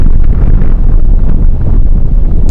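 Strong wind at Anchorage airport roars and buffets the microphone continuously, loud and rumbling with no other sounds standing out.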